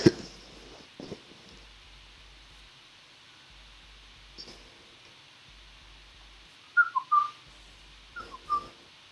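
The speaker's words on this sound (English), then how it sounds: "Need you to not bust a whistle like that." A person whistles a few short, bright notes in quick pairs near the end, fairly close and clear over a quiet background hiss during an online game session.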